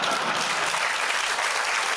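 A presentation audience claps in a continuous, dense burst of applause lasting a couple of seconds, loud and even throughout.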